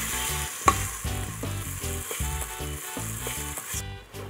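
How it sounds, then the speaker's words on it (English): Curry paste for a peanut fondue sauce sizzling hard in a hot pan while being stirred quickly, loud frying crackle broken by rhythmic scraping strokes. "So I'm just gonna stir it up quickly."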